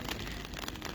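Heavy rain pours down in Jammu, a dense, steady hiss of drops that fills the whole moment without a break, loud and close, with no voices over it.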